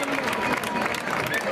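Crowd applause and cheering in a village festival plaza during a bull-and-cow event, a dense continuous clatter of many hands close and loud throughout, with voices mixed in.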